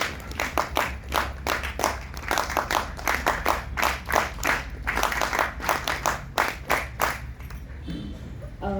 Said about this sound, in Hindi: आप इनके लिए तालियां बजाइए जिन्होंने सबसे पहले हाथ उठाया